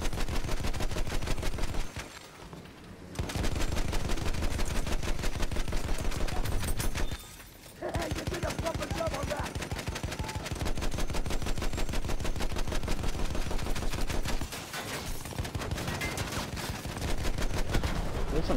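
Video game gunfire rattles in long, rapid automatic bursts, loud and close. It is broken by two or three brief pauses, with no speech over it.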